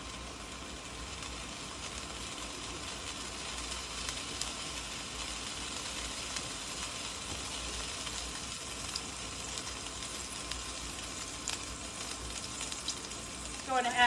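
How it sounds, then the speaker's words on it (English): Vegetables sizzling in a hot pan with sesame oil for chicken chow mein, a steady hissing fry with light stirring that swells slightly at the end. "I'm going to start adding my vegetables"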